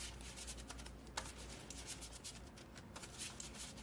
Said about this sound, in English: Let's see what the shuffle feel is like.